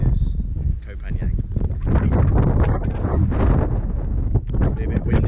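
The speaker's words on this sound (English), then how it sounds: "It's a bit windy up here, probably can't hear anything I'm saying." Strong wind buffets the microphone on the open upper deck of a ferry travelling to Koh Phangan, a loud gusty roar with a person talking underneath throughout.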